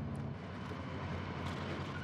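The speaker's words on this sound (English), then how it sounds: "There's a chopper here." Helicopter in the Warzone video game flying overhead, a steady dense rotor and engine roar holding level and loud through the whole short stretch.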